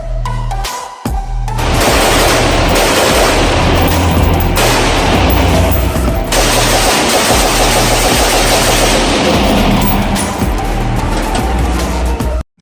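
A crank-operated multi-barrel gun fires four rounds per crank turn, producing a loud, dense, continuous burst of rapid shots that runs for roughly ten seconds with a brief break early on, close and with no voices.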